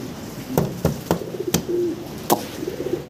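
Pigeons coo in a low, throaty murmur over a few seconds, among fancy black-colored pigeons being shown for sale, with several sharp clicks or taps breaking in close by and no talking.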